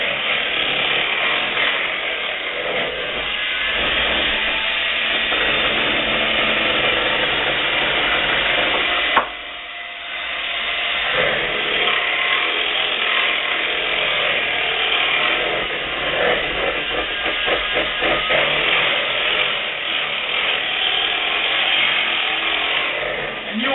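Pumpkin pie filling is mixed with the eggs just added, giving a steady, loud motorized whirring that runs almost the whole time, broken only by a brief dip near the middle before resuming.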